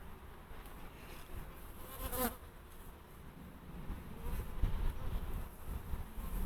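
Honeybees drone steadily inside an opened Dadant PCH hive, a dense close buzzing that swells and fades slightly, with brief sharper passes as individual bees fly near.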